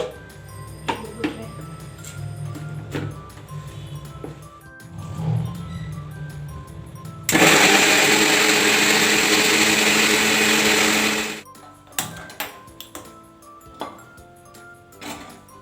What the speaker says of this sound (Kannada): ಇದನ್ನೆಲ್ಲ ಎತ್ತಿ ಮಿಕ್ಸಿ ಜಾರಿಗೆ ಹಾಕ್ಕೊಂಡು ಇದು ಪೇಸ್ಟ್ ಮಾಡ್ಕೊಳ್ಳೋಣ